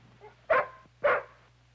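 A dog on a street gives two short, evenly spaced barks, moderately loud against a low steady hum.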